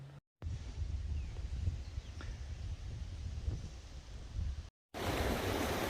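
A river runs past an old train station in the historic gold-mining town of Walhalla, Victoria, giving a steady, close rush of flowing water with some wind buffeting the microphone, broken by two brief dropouts.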